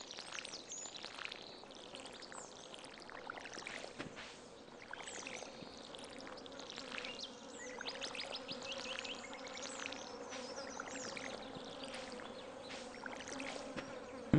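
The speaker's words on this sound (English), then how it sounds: "Wait, what's that buzzing sound?" Insect buzzing in the Stardew Valley video game, a steady droning whine with flickering wingbeat texture that holds throughout, moderately loud over low ambient game sound with no talk.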